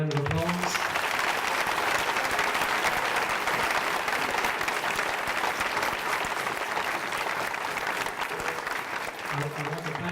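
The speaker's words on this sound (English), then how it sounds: "I would like you to give a round of applause." Attendees at a meeting break into a long, loud round of applause, a continuous crowd of clapping hands that stays strong and steady for about ten seconds.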